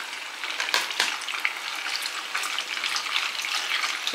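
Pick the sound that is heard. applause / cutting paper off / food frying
food frying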